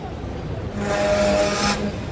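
A Hong Kong tram rumbles past on the street, a broad swell of noise rising over about a second and then easing off, with traffic hum and a faint whistle-like tone beneath.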